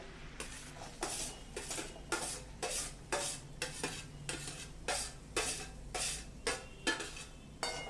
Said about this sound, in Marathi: आता जो कांदा आपण बारीक कापून घेतलेला आहे हा परतवायला टाकूया